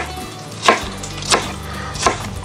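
Three sharp knife chops spaced about two-thirds of a second apart, close and distinct, as vegetables are diced on a board for a Dutch oven catfish and shrimp chowder, with a low steady hum in between.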